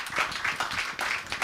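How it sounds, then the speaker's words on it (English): A crowd applauding, steady clapping from many hands with slight swells in intensity. "give a round of applause to all of our panelists"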